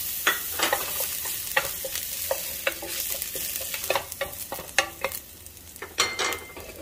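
Ginger sautés in olive oil, giving a steady crackling sizzle with frequent scraping stirs of a utensil against the pan, close up and without any talking.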